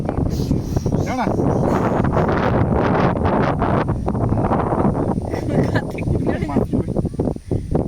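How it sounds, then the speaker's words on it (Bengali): A monsoon-like wind blows from the south-west ahead of rain over an outdoor marigold plot, roaring and buffeting the microphone in a steady broadband rush for the whole stretch. "দক্ষিণ পশ্চিম দিক থেকে মৌসুমি বায়ুর মতো বাতাস দিচ্ছে"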